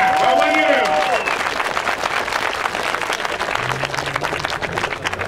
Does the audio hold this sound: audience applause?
yes